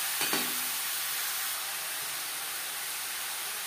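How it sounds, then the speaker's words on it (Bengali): Bottle gourd stirred into hot tempering in a pan for a fish-head curry, a steady loud frying hiss with a brief scrape of the spoon near the start. "লাউ বেশ ভালো করে মিক্স করে দেবো।"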